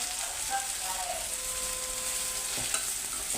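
Onions frying in hot oil in a home kitchen pan, a steady dense sizzle with light stirring and scraping of a utensil, fairly close and continuous.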